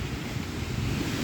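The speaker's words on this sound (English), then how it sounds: "I know it's windy and I apologise about the noise." Steady, loud wind buffeting a microphone outdoors beside a river while walking a dog, a continuous low rumbling roar with no break across the whole moment.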